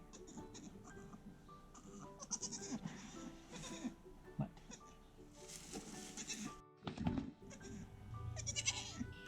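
A goat bleats repeatedly at close range in a barn where newborn kids are present, with several loud calls spread across the clip against quieter background rustling.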